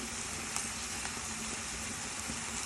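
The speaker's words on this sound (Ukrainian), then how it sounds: "Тепер разом обсмажую." Carrots, onion and shiitake mushrooms frying together in a pan give a steady, close sizzle with faint crackles, continuous throughout with no talking.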